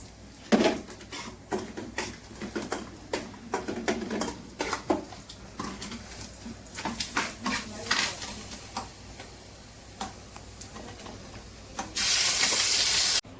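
Fish fries in a pan in a home kitchen: scattered clinks and scraping of utensils over a steady background, then a louder, sustained sizzling hiss near the end, with no one speaking.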